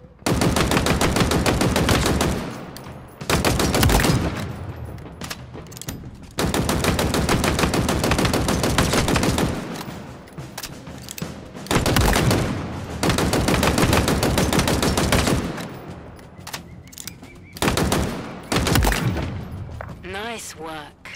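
Gunfire from the Halo Infinite multiplayer academy as targets are shot: loud, rapid automatic bursts several seconds long, separated by brief pauses and ending with a few shorter volleys.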